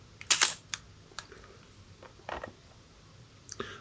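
A 1967 Ricoh Singlex TLS M42-mount manual mechanical SLR fires its shutter in a series of crisp, close mechanical clicks spread irregularly across a few seconds, with no talking.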